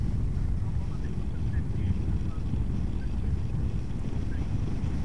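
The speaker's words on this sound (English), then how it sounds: "there's a bit of wind" Steady outdoor wind buffeting the microphone at a campsite beside a Honda SH300 scooter, a continuous low rumbling roar with no breaks throughout.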